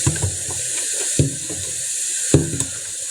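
Water runs steadily from a tap, a constant close hiss with occasional splashes and knocks as hands move under the stream.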